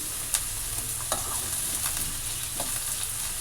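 Onions sizzling in a pan while a red amaranth stir-fry is being made, with a steady broadband hiss broken by a few scraping stirs of a spoon; close and continuous, no talk.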